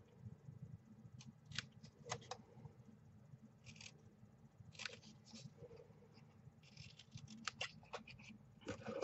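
Scissors cutting patterned paper for a floral card banner, faint close snips and paper rustles in irregular bursts over a low background hum.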